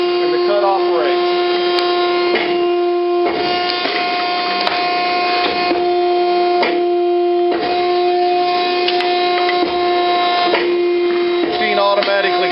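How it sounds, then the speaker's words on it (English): A Z!nnovation Phoenix traveling head die cutter runs loudly with a steady, tonal mechanical whine, broken by brief regular pauses and clunks as the head indexes and cuts the material. "Indexes to the first cut position, and the cut operates."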